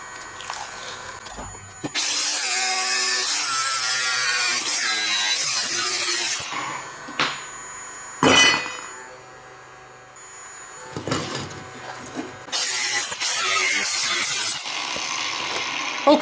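Stainless steel plate pieces are cut and filed, with long harsh rasping strokes broken by short pauses and sharp metallic scrapes, loud and close.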